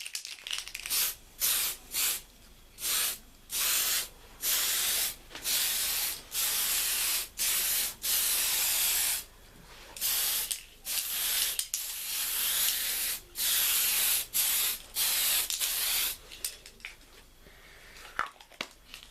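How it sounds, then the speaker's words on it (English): A spray can of TS13 clear coat mists over a 1/350 USS Enterprise model kit in a series of short hissing bursts, roughly a dozen evenly spaced blasts with brief gaps, close and loud, with no talk. "So I'm just going to quickly get a clear coat with this."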